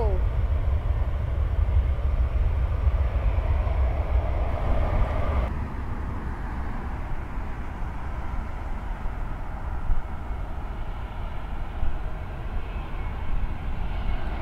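A Delta airliner flies at LAX with a loud, broad, rumbling engine roar that holds steady and then eases slightly. A voice talks over it.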